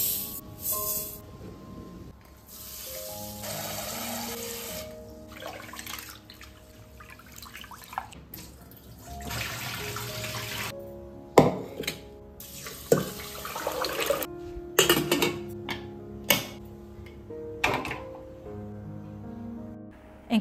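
Foxtail millet is washed under running water at a kitchen sink, with a steady tap stream, sloshing and swirling, and sharper splashes and drips as the grain is stirred and rinsed.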